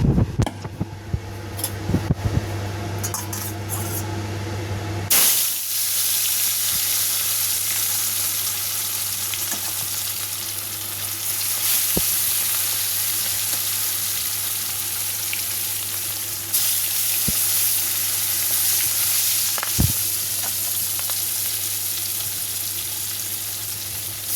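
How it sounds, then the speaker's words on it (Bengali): Loud clatter, then a sudden burst of intense sizzling as rohu fish pieces hit hot oil, continuing steadily with a few sharp clicks. "তেলটাও আমার গরম হয়ে গেছে। এবার আমি মাছগুলো ছেড়ে দেবো।"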